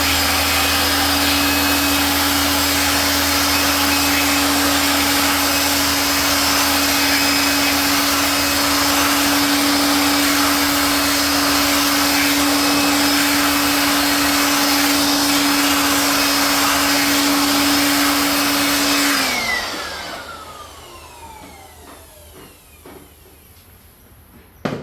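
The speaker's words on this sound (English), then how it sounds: "And we will use our blower and we will check" A blower runs loud and steady for about nineteen seconds while a dryer that is not working is tested, then cuts off and winds down into near silence.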